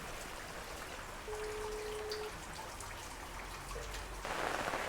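Steady rain pours down with a dense patter on surfaces, a brief faint tone sounding once in the background.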